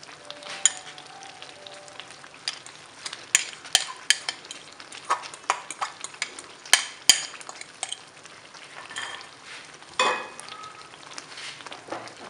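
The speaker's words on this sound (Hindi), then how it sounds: "अब इसमें चने शामिल कर देंगे और साथ ही दाल शामिल करेंगे उनकी" Chickpeas and lentils are tipped into a cooking pan for chana salan, followed by a soft frying sizzle, clinks and sharp spoon scrapes scattered irregularly across the clip, fairly close, with no voices.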